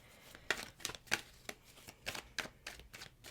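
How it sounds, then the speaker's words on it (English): Tarot cards are shuffled in a quiet room, a series of crisp riffling bursts roughly every third of a second, close and fairly soft, with no talking. "So let me just shuffle a couple times here and then we'll get your spread out."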